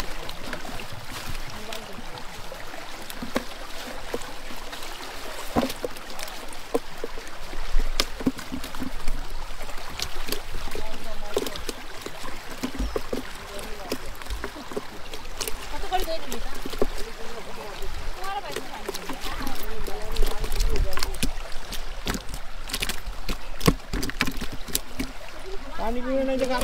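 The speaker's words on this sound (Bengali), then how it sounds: "মাশাআল্লাহ জালটি তোলা হচ্ছে" A fishing net full of local fish is hauled up from the water, with steady sloshing and dripping that runs throughout under ongoing voices.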